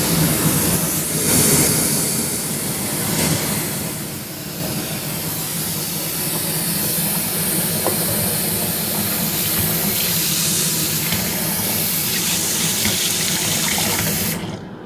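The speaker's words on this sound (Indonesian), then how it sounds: "Ini disiram air panas sampai menutupi semua bagian." Hot water poured from a kettle over food in a bowl to wash off the oil, a steady rushing gush that runs unbroken for about fifteen seconds, close and loud, with no voices.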